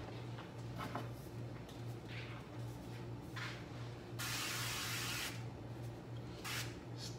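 A steady hiss of an aerosol cooking spray, one long burst over a low electrical hum, with shorter faint sprays around it.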